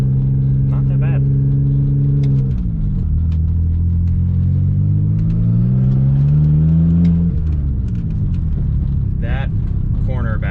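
BMW drift car engine revving loudly, rising and falling in pitch as it accelerates and shifts, with a steady rumbling drone throughout and a few brief voice-like bursts over it.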